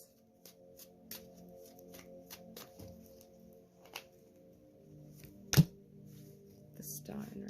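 Tarot cards being shuffled and drawn, with soft scattered riffling and light slaps and one sharper thud near the end, faint under a steady low hum, with talk present.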